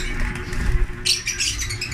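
A stressed pet bird gives short high chirps in the second half, close and fairly clear over low rumbling room noise.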